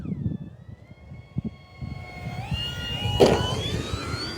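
Arrows Bigfoot 1.3 m RC model airplane doing a touch-and-go, its electric motor whine rising in pitch as the throttle opens, over wind noise and rumble close to the ground.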